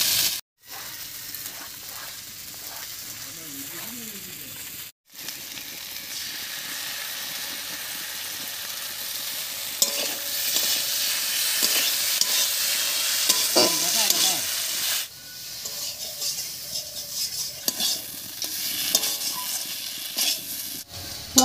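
Ground spice paste and potatoes, with tomato, for a tangra fish curry sizzle loudly in a pan while being stirred and scraped repeatedly, with a couple of brief cuts in the sound.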